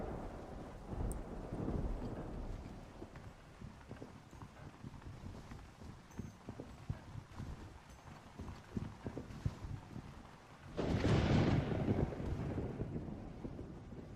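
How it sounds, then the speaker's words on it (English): Thunder rolls through a rainy night in the video game Red Dead Redemption, a low rumble swelling and then bursting into a louder crack near the end, over steady rain and horse hoof clip-clops. "There is thunder, of course."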